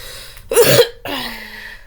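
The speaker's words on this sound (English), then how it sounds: "I'm gonna try to hold in on my coughing" A single harsh cough burst from a person who is sick, close and fairly loud, followed by a rougher throaty exhale trailing off.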